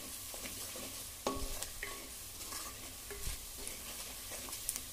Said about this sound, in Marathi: तेलात थोडीशी परतायची